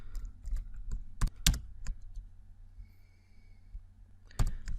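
Computer keyboard typing at a desk, a few sharp separate keystrokes and short clusters of clicks, close and fairly quiet, with soft breathing between them.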